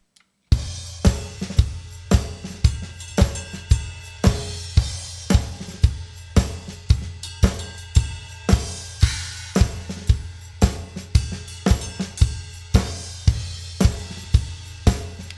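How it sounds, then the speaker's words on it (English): A punchy kick drum thumps on every beat in a steady four-on-the-floor pattern, with hi-hats and cymbals layered over it throughout. "it's a 4 on the floor kick drum sound"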